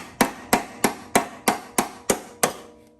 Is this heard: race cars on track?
no